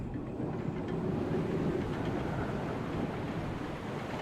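A steady rushing, churning stream of water draining away after a crank is turned in Resident Evil HD Remaster, fairly loud and continuous without a break, with no talk over it.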